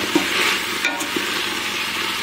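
A wooden ladle stirs green beans in a pressure-cooker pot over the heat, with a continuous frying hiss and a few soft knocks and scrapes.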